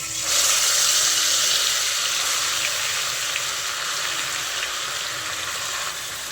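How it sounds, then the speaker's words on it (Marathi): Mashed carrots dropped into hot ghee for carrot halwa, a loud close steady sizzle and frying hiss that jumps up at the start and keeps going with a slight fade, with no talking. "आता याच तुपामध्ये मॅश केलेले गाजर टाकूया।"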